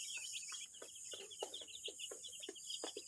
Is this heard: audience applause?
no